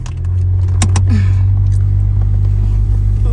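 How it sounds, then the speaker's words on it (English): A car makes a loud, steady low engine drone from very close by, with keys jangling sharply near the start. "But my car's making noise."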